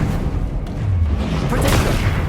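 A Confringo explosive spell goes off in the video game Hogwarts Legacy as a loud, low booming blast with rumbling tail, after a voice calls out briefly.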